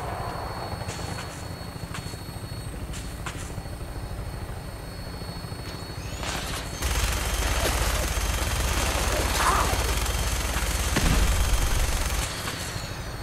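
Gunfire in Fallout 4 video game, bursts of rapid shots within a dense, loud wash of battle noise and engine-like rumble, continuing throughout with someone talking briefly.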